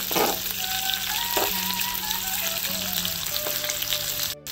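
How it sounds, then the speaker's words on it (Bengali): Potatoes frying in oil in a pan for a rohu fish and cauliflower curry, giving a steady, close sizzle throughout with faint tonal whistles over it and a few light clatters. "আলুটাকেও ওরকম ভাবে ভেজে নেবো, একই রকম ভাবে।"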